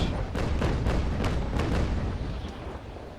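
A volley of ship cannon shots in the naval video game Naval Action: a string of muffled booms fired in quick, uneven succession, rumbling and fairly distant.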